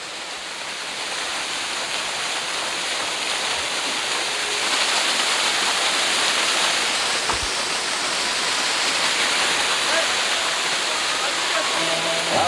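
Water from above pours across a mountain trekking road on the Kedarnath trek from Sonprayag, making a loud, steady, close rushing roar like a small waterfall that holds constant throughout.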